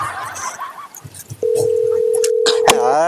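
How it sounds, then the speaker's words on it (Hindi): Muffled background noise and clicks give way to a steady telephone tone that holds for over a second, with a few clicks near the end. "फोन लगाता हूँ"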